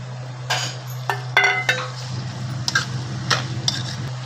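Mixed vegetables stirred into frying rice in a pan for homemade veg fried rice, a spatula clinking and scraping against the metal pan in irregular bursts over a steady hum.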